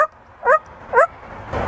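A parrot imitating a dog's bark, giving two short, sharp yips about half a second apart, close and clear, followed by a brief rustle.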